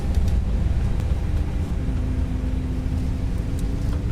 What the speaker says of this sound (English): Really, really nice engine sounds.